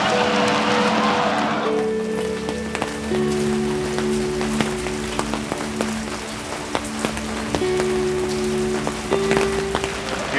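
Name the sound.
rain falling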